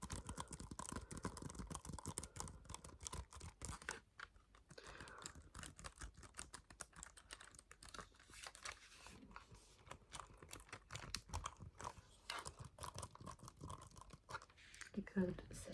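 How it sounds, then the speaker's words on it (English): Rapid clacking keystrokes on a Bluetooth computer keyboard, close and crisp, arriving in irregular bursts with short pauses across the stretch. "So I do have another Bluetooth keyboard that I do use. This one is just here to look pretty and to make nice sounds."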